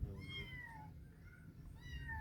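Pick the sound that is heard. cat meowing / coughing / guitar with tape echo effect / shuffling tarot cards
cat meowing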